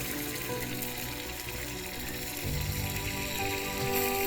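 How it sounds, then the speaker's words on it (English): Burgers sizzling on a camp grill beside the Murray River, a constant crackling hiss that thickens and grows louder partway through. "Put some burgers on there sizzling."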